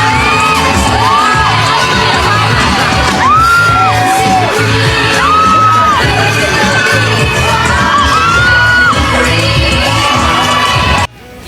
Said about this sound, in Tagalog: hiyawan ang mga tao nang sinayaw niya ito